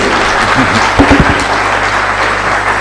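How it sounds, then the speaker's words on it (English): An audience applauds a speaker at the close of a talk session, a dense, steady wash of many hands clapping that fills the whole stretch at close range, with no voices over it. "A big round of applause for Rosie Llewellyn Jones"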